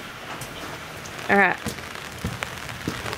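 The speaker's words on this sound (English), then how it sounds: "But we needed the rain." Steady rain from the remnants of Hurricane Helene hisses on outdoor surfaces without a break, with a person speaking briefly over it.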